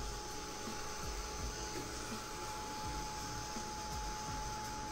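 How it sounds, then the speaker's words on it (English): A heat gun blows steadily over a decoupaged candle, warming and melting the wax, giving a low, even whooshing hum with a faint whine that runs unbroken and fairly quiet throughout. "Now I'll start moving my heat gun in the area."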